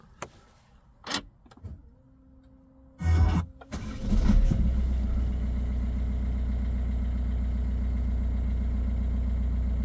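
A few clicks and a brief whirring crank, then a 2021 Peugeot 208 BlueHDi diesel engine catches and settles into a steady, low, throbbing idle that continues close by.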